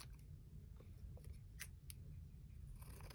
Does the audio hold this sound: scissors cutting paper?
yes